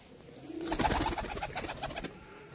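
A pigeon held in the hand gives a clear, close bubbling coo that swells and fades over a couple of seconds.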